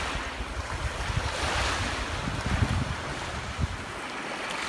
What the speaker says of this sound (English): Oh dear, the waves knocked down the Teletubbies.